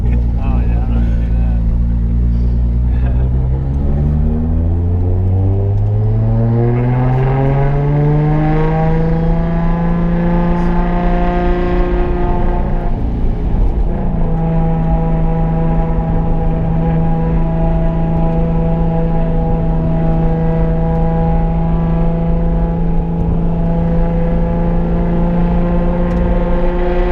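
An R32 Skyline GTR drives a lap at Dominion Raceway, its engine loud and close as it revs up through the gears, drops briefly on a shift, then holds a sustained drone.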